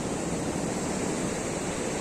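Ocean waves break and wash onto the sand at Leblon beach in Rio de Janeiro, a deep-water beach with decent surf, heard as a steady, broad roar of surf with no voices.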